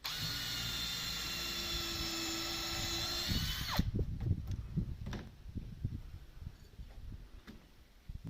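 A power drill drives a 200mm batten screw on a cabin kit build, a steady whining drive for over three seconds that cuts off, followed by quieter knocks and handling sounds.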